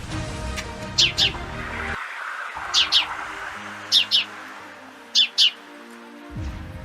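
A house sparrow gives four pairs of sharp, bright chirps, evenly spaced and close by, over a quiet background of soft music.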